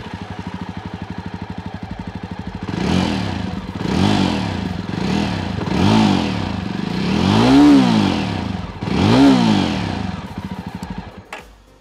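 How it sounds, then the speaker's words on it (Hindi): A Jawa Perak motorcycle starts and settles into a deep, throaty exhaust note, idling steadily close by and then revving in several swelling bursts before cutting off. "अब इसका जो एग्जॉस्ट नोट है वो कुछ इस तरह से है"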